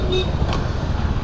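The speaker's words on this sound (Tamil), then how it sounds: "செம்ம டிராஃபிக் இங்கே மேட்டுப்பாளையத்தில்" Heavy road traffic in Mettupalayam, a dense roar of passing cars and buses with a brief horn toot, heard close during a group motorcycle ride on a Jawa 42.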